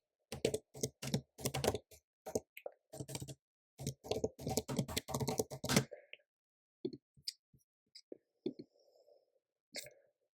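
Rapid keystrokes on a computer keyboard while a commit message is typed, a dense burst of close clicks for about six seconds, then sparse scattered taps and pauses.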